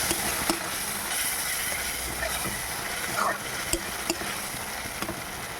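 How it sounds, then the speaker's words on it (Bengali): Ginger-garlic paste sizzles steadily as it is sautéed in a hot pan, with occasional scrapes and clinks from a stirring utensil heard close up under the continuous frying hiss. "এবারে আমি 1 টেবিল চামচ আদা রসুনের পেস্ট দিয়ে দেবো, দিয়ে একটু কষাবো।"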